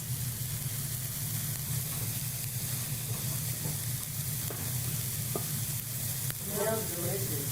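Onions and garlic sauté for Tuscan white bean soup, making a constant, even sizzle close by. Occasional soft stirring scrapes sit under it and a brief bubbling hiss comes near the end.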